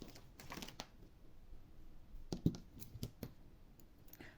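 Embroidery thread is snipped with scissors while measuring lengths for Broderie Normande: a few quiet, sharp clicks and crisp snips scattered over faint rustling handling noise, close and soft, without talking.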